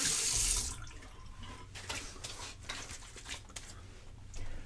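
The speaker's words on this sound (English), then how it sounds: "Let that soak in for about 30 seconds and then rinse it off." Cold tap water runs into a sink for rinsing a freshly shaved face, opening with a loud rushing burst that drops to a quieter, uneven splashing and trickling as hands scoop the stream.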